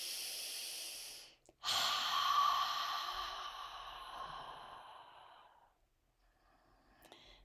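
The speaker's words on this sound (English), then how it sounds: "Breathing." A slow, deep breath taken during a guided meditation, a long drawn exhale that fades gradually, followed by a short pause and a faint sound at the end.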